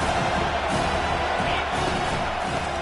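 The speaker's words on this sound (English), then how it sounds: "Decibels rising as the crowd gets behind this defense on third down." A football stadium crowd at a Tennessee vs Miami game roars for the defense on third down, a dense, loud, sustained wall of cheering that never lets up.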